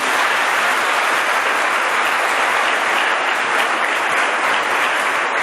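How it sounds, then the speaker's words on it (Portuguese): Congregation applauding during a church sermon, loud dense clapping that holds steady and unbroken from start to finish with no talk over it. "Você pode dar um aplauso ao Senhor por isso?"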